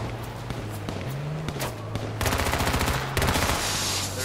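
Rapid automatic gunfire bursts from the battle royale game H1Z1, loud and close, with dense volleys in the second half over a steady background drone of an engine hum.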